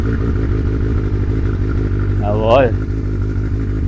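A Suzuki motorcycle engine cranks and catches after a battery change and winter layup, with a brief rising burst of revving over a steady idling rumble, while a voice speaks briefly nearby.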